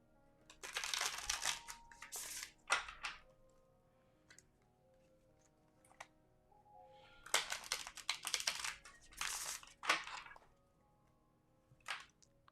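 A deck of spellcasters tarot cards is shuffled by hand, two bursts of crisp riffling and snapping separated by quiet pauses and a few soft isolated taps, close and fairly quiet.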